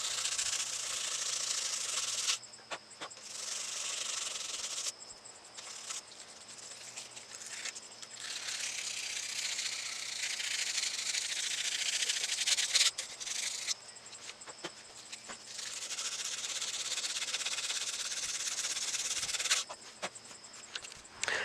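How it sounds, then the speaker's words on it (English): Continuous rhythmic rasp of sandpaper rubbed back and forth along the fuller of a steel knife blade forged from a leaf spring, in long strokes with brief pauses between passes. "I'm just going to start sanding out this fuller here to make it nice"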